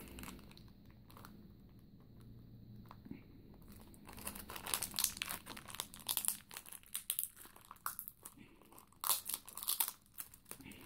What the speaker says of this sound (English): Remove this tape.